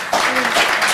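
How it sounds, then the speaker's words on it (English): Jurors in a courtroom during voir dire break into brief clapping, a short burst of applause with a voice speaking over it. "Even the jurors are clapping."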